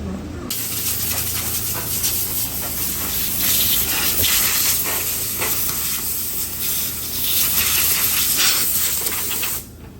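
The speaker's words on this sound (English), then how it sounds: "Mario blew off all the dirt from around the tank" Compressed air blasts dirt off the fuel tank of a Ford E150 van, a loud, steady, close hiss that swells and eases slightly over about nine seconds before cutting off abruptly.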